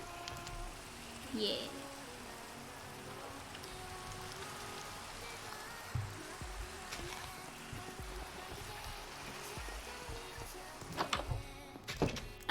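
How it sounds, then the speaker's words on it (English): Steady rain falling in the video game Minecraft makes a constant, even hiss throughout, with a voice talking briefly over it and a few soft knocks near the end. "because of the whole, like, noise of the rain"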